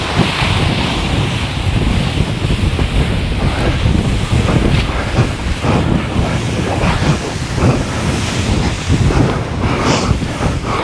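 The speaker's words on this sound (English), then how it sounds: "Oh, it's well windy." Strong wind at a paragliding site roars steadily across the microphone over crashing surf, loud and continuous throughout with no voices.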